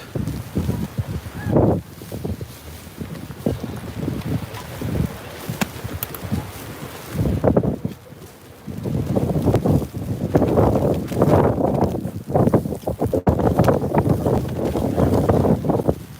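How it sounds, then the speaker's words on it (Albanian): Strong wind gusts during a snowfall in Elbasan, Albania, roar and buffet the microphone with loud, uneven bursts of rumbling noise. The gusts dip briefly near the middle and then surge again, with no speech. "ka shumë erë, kështu që e kam shumë të vështirë të transmetoj"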